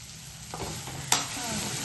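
Salted okra cooks in a pan for a simple ladyfinger stir-fry, with a soft continuous sizzle and a few scraping stirs, one of them a sharper clack of a utensil on the pan.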